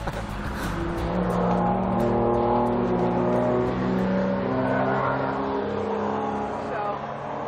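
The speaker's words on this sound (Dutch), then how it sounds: "dit zijn auto's, geen motor" Several cars revving engines at a motoring event, a continuous loud roar with rising and falling engine notes and a brief tire squeal, with people talking over it.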